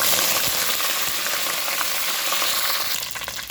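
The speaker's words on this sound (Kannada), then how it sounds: "ಈಗ ಒಂದು ಆರು ಹೆಸರು ಬೆಳ್ಳುಳ್ಳಿಯನ್ನು ಜಜ್ಜಿ ಹಾಕ್ತಾಯಿದ್ದೇನೆ ಸ್ವಲ್ಪ ಕರಿಬೇವು ಮೇಲೆ" Crushed garlic and curry leaves fry in hot oil in a pan, giving a loud, steady sizzle close by that eases slightly near the end, with no voices.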